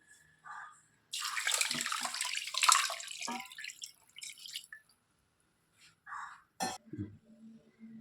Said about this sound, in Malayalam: ഒരു 3 കപ്പോളം വെള്ളം ഒഴിക്കാം